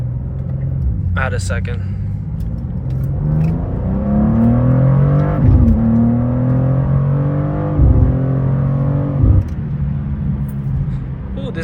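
A BMW G87 M2 accelerating hard, its engine note climbing and dropping through several quick gear changes with sharp pops between them, loud and close, with someone talking over it.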